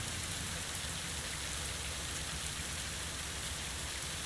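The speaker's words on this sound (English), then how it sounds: "It's not hail, Kong. It's just rain" Rain in a farming simulator game, a constant even hiss of falling rain and drops on surfaces that holds steady and fairly faint throughout, with no talk.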